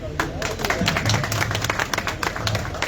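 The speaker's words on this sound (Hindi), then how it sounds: "पंजाब पाकिस्तान के चैंपियन ने ताली होनी चाहिए" A crowd at a stage event honouring Punjab, Pakistan champions breaks into dense, close applause, with quick overlapping claps that carry on steadily for a few seconds.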